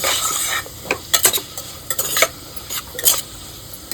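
Spices with turmeric and red chili powder are sautéed with vegetables for veg shahi biryani. A utensil scrapes and clinks rhythmically against the pan in a run of close strokes over a low sizzle.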